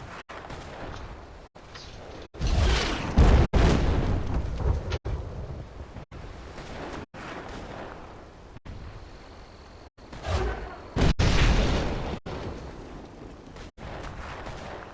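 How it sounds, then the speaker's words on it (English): Mortar shells burst in the Fable 3 video game as repeated loud, rumbling explosions, with heavy booms around the second, third and eleventh seconds over a steady roaring, crackling background. "Can you take that mortar out? It's really starting to annoy me."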